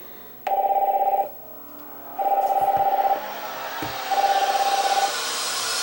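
A phone's ringtone plays through an Elegiant Bluetooth speaker as three evenly spaced trilling bursts over a soft background hiss, ending in steady noise.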